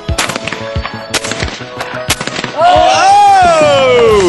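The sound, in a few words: gunshots, instructor shooting three targets at once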